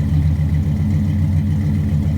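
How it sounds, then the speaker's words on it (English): Deep, steady rumble of a 330 hp GM crate V8 in a 1989 9C1 Caprice through true dual exhaust with Flowmaster 40 series mufflers, a low burbling drone that holds for a couple of seconds. "Just your basic 40 series flow masters. I always like how they sounded."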